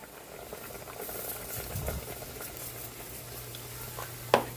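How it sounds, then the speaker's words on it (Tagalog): Paksiw na isda, a Filipino fish stew in a covered pot, bubbles at a gentle boil, a soft steady burble with a faint lid rattle and a sharp clink near the end. "Ayun, kumukulo na."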